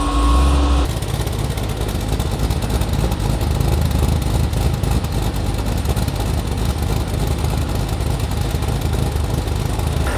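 LS V8 swapped into a BMW X5, idling on a new tune: a loud, steady, rumbling engine drone that holds an even note throughout, close up with no talking.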